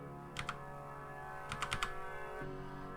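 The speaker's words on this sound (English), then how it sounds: "I'm just gonna go in here and kind of almost type the password because I know what it is" Computer keyboard keys being typed to enter a password, a few quick clustered taps around half a second in and a faster burst of four or five keystrokes later, fairly quiet over a steady electronic hum.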